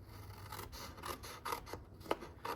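Scissors snip and rasp through a paper treat box template, giving a quiet, irregular run of short cutting strokes with no talk.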